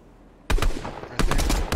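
Video game gunfire in a shootout erupts in two loud bursts of rapid shots, the second starting after a short pause, close and sharp with no talk over it.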